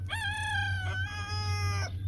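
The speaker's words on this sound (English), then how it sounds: "he's got his free range chickens running around." A free-range rooster crows a clear, close cock-a-doodle-doo in two drawn-out phrases over a low steady background hum.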